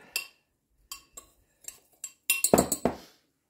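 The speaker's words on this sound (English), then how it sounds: "I'm just giving it a jolly good stir" A spoon stirs taco spice mix in a bowl, making close, crisp metallic clinks that come in scattered taps and then a quicker cluster of scrapes and chinks.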